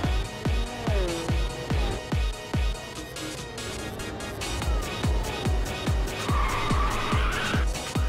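A racing car in Ridge Racers 2 drifts through corners, its engine revving in repeated bursts with loud, sustained tire squeal and skidding, game music faintly underneath.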